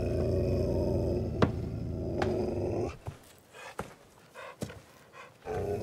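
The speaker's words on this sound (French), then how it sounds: "Ça suffit, les grognements." A dog growls with a low, continuous rumble for a few seconds, then breaks into several short throaty grunts and huffs, close and moderately loud.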